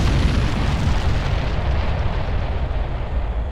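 Artillery bombardment in the Ground Control strategy game produces a continuous loud roar of overlapping explosions, dense and rumbling throughout with no clear breaks or voices.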